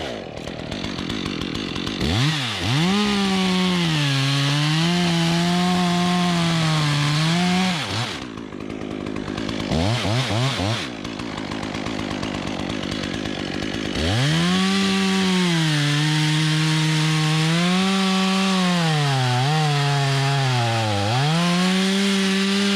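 A chainsaw cuts a notch into a large tree limb during big rigging work. The engine roars loudly and steadily up close, pitch rising and falling as it bites into the wood, with a brief lull midway before cutting resumes.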